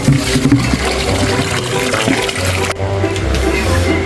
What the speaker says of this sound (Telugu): నీళ్ళు పట్టే కార్యక్రమం.